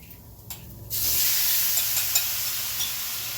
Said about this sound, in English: we're going to stir fry the garlic just for about a couple of seconds, because we don't want that to burn.